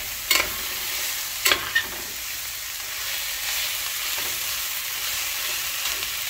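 Fried rice sizzles steadily in a hot pan while being cooked toward a char, with a few sharp scrapes and clacks of the utensil stirring early on over a constant frying hiss.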